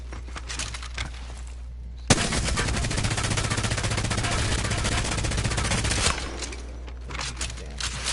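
The Devotion machine gun in Apex Legends, fitted with a turbocharger, fires a continuous rapid burst for about four seconds, loud and close, then stops, leaving a low steady background hum.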